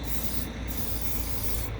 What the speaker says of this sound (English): You actually want to spray your sprocket in here as well.